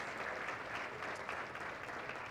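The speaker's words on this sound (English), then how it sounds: "A little round of applause for the Early Learning Center." Steady, moderately quiet applause from a crowd at a YMCA community breakfast, even and sustained with no voices standing out.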